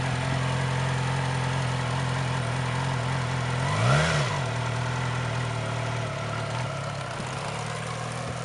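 A 2007 Yamaha R6 600cc sport bike with stock exhaust idles steadily up close, then a single brief blip of throttle rises and falls around the middle before settling back to a steady idle.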